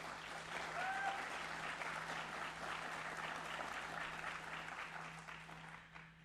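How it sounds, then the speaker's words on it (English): An audience at a university town hall claps steadily in a sustained round of applause that fills the room at even strength, then tapers off toward the end. "Can we have a round of applause, please?"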